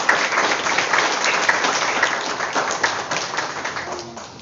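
A school audience gives strong, steady applause to welcome a preschool zone supervisor at an end-of-year ceremony, the dense clapping holding loud before easing slightly toward the end.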